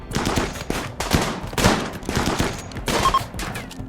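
Rapid gunfire from a bolt action rifle and a pump shotgun in the RimWorld video game, several loud shots and bursts in close succession with no talk.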